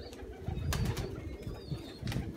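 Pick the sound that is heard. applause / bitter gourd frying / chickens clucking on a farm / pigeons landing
pigeons landing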